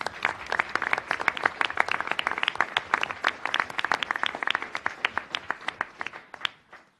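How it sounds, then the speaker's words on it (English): An indoor audience at a Q&A evening gives a round of applause: dense, lively clapping from many hands for several seconds, thinning into scattered claps as it fades out. "Let's give them a round of applause."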